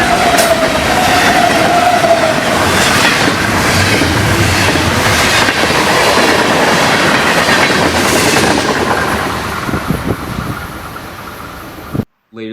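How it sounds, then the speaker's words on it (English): Florida East Coast Railway freight train 109 with eight cars rolling past up close, loud rumbling with wheel clatter and a brief squeal, fading toward the end before an abrupt cut. "find train 109 running with 8 cars"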